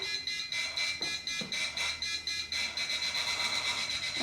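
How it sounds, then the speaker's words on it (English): A liquid level indicator hooked over a cup beeps in a rapid pulsing pattern as the cup is filled, sounding loud and close in a quiet room. "And the second beep."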